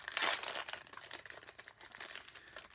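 Plastic wrapping on a package of collectible photo cards crinkles and crackles in dense, close bursts, loudest at the start and continuing steadily throughout.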